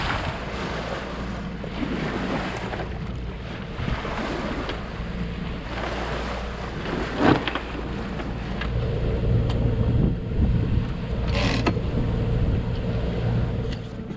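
A small sailing boat motors across the open Atlantic Ocean, a low, steady engine drone running under wind buffeting the microphone and waves washing against the hull, with an occasional louder slap.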